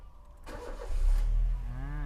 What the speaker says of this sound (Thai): เครื่องยนต์เดินเบาปกตินะครับ